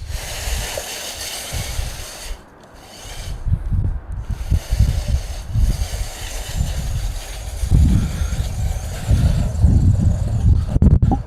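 An amphibious RC truck drives over dirt, its small motor whirring in rough surges with crunching and rattling from the tires and chassis, loud and close throughout.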